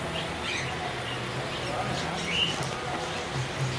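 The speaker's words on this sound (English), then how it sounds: "I swear there is a bird on top of my phone. Stop fighting!" Farm birds chirp and squabble close by, with scattered high tweets and squawks over a busy background; a person talks over the birds.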